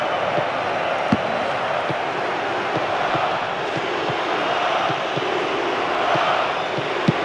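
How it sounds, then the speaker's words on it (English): Stadium crowd in the football video game Pro Evolution Soccer 2009 on Xbox 360, a steady, dense roar of cheering spectators sustained throughout, with occasional faint thuds of a ball. "Crowd are roaring themselves hoarse."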